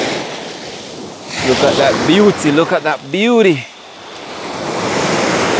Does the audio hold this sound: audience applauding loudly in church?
no